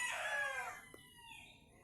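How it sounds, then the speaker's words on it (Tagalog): A single loud call from a hen rings out nearby in the morning, then fades into a quiet background. "It's a hen."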